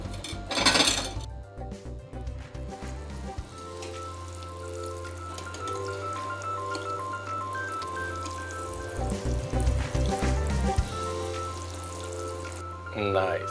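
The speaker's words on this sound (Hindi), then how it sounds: "चलिए, अब इसको कर लेते हैं फ्राई।" Millet kofta fries in a pan, giving a steady, crackling sizzle with occasional clinks of cookware, under a person talking.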